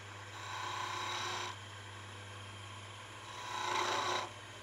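A skew chisel cuts wood on a turning lathe in two long passes, a steady rasping scrape over the motor's constant low hum, with a quieter gap between strokes.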